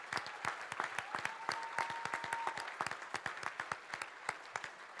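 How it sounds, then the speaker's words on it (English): An audience applauds living organ donors at a donation awareness event, with dense steady clapping from many hands at moderate distance that holds for several seconds. "Let's give a round of applause to our living donors."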